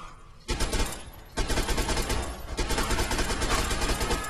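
Sustained automatic gunfire from a firefight in the video game Fallout 3, loud and dense rapid bursts starting after a quieter moment and continuing almost without pause, with a brief lull before a fresh barrage.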